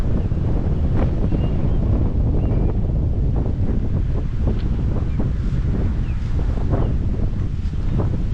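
Steady outdoor wind buffets the microphone in a continuous roar while a DJI Mavic Air drone is flown, with scattered faint clicks and no talk.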